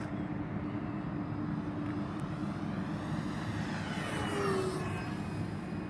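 An E-flite T-28B Trojan 1.2m radio-controlled plane makes a high-speed pass, its electric motor a steady, fairly loud drone that swells and shifts pitch as it sweeps by, with wind noise around it.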